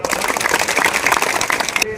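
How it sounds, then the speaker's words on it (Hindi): An audience at a community anti-drug event in Mewat bursts into brisk, dense clapping that stays loud and continuous for about two seconds before cutting off abruptly. "तो इसके लिए बहुत सारी तालियां बजाओ एक बार"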